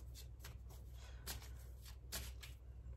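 Oracle cards being shuffled by hand in close, faint, rhythmic riffling bursts of soft papery rustles over a low background hum.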